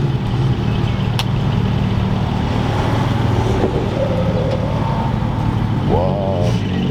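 A Porsche 718 rolls in at a Porsche car meet, its engine a low rumbling drone amid crowd noise and passing traffic, with a brief rising rev near the end.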